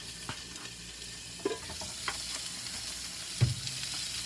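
A whole chopped onion frying in a pan for cube steak with black pepper gravy, a soft steady sizzle broken by a few sharp spatula scrapes and clanks, close and without talk.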